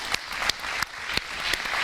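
An audience at an evening event on Article 370 applauds steadily, a dense wash of hand claps with a few sharper accents, fairly distant and without speech.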